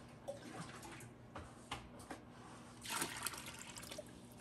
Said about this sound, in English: Let's get some water in there for him.